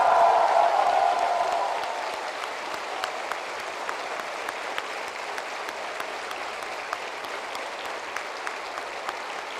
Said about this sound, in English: give them a very big round of applause and the loudest possible cheer